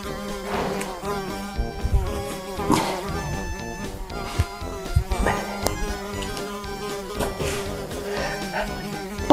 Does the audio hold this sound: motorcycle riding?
no